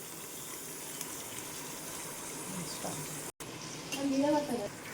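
Goat tripe (boti) sizzles in a hot pan over a low flame with a steady, close frying hiss; a brief, sharper burst of sound and a voice-like murmur come near the end.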